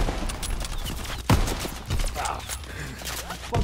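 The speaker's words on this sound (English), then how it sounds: "dropping bombs!" Bombs falling and detonating in the WWII shooter Call of Duty: WWII, a rumbling barrage of dull blasts and gunfire, one sharp close impact standing out midway, with voices mixed in.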